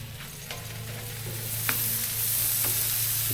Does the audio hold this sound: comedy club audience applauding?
no